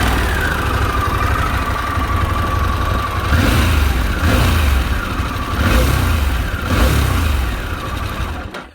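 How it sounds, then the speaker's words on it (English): A Harley-Davidson Pan America motorcycle engine runs steadily at idle close by, with a low rumbling note and a few brief rises in revs partway through. "I quite like the engine note actually."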